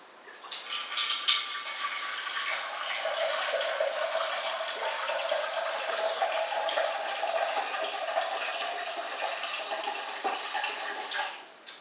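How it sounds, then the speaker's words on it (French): Water pours steadily into a bowl for washing an Omega VRT juice extractor, a continuous close splashing stream lasting about eleven seconds before stopping. "Voilà, donc je verse de l'eau."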